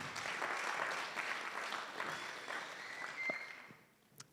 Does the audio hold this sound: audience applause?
yes